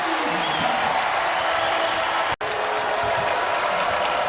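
Sellout basketball crowd in Charlottesville, a dense roar of cheering and applause filling the arena continuously, with a momentary dropout midway and faint speech mixed in.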